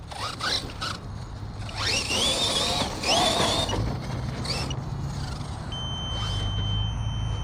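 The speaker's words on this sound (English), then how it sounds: "Oh, that's the timer." An electronic timer sounds a steady high beep tone near the end, over the whirr and rattle of a Hobao Hyper MTX RC monster truck running outdoors.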